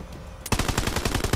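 Rapid automatic gunfire from a weapon in the video game Borderlands 3 bursts in suddenly after a quiet moment, then hammers on in a fast, steady, loud rhythm of evenly spaced shots.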